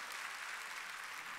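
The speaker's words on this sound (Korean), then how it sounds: "깨달았으면 세게 박수 치라고요." A church congregation claps steadily during a Wednesday worship service, a dense, even wash of applause held for the whole moment with no voices above it.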